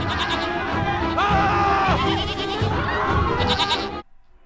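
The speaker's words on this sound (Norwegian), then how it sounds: "det er geit som har gått amok ned på det" Goat bleating near a campsite in a loud, wavering run of repeated calls lasting about four seconds, stopping abruptly.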